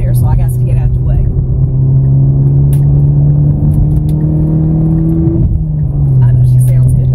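A car engine drones loud and steady as it pulls along the road, its pitch climbing gradually under load and then dropping as the driver eases off, with no talk over it.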